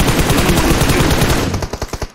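Rapid automatic gunfire in a PUBG Mobile match bursts loudly in a dense stream, then breaks into a few separate spaced shots as it trails off, with no talk over it.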